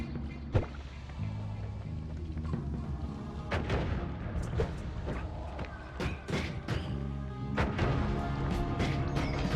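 Bomb explosions in the video game Noita go off one after another, booming and crashing in an irregular series over a rumbling, layered game backdrop, loud and near.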